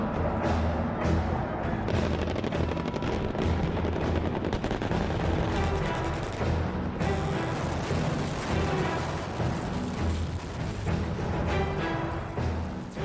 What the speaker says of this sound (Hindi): कोरियाई प्रायद्वीप में बम और गोलों की आवाजों वाले इस युद्ध अभ्यास की कुछ और तस्वीरें देख लीजिए